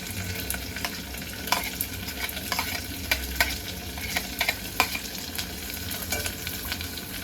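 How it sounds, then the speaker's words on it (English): Chopped onions fry in hot oil for an omena dish, with a constant close sizzle punctuated by frequent sharp clicks and scrapes from stirring. "I have added the chopped onions."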